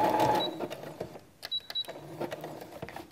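A sewing machine stitches a zigzag appliqué, quiet and close, with short bursts of rapid needle clatter broken by small pauses and clicks as the presser foot is lifted.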